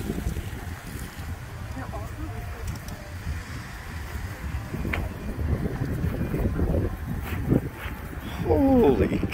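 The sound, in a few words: strong gusting wind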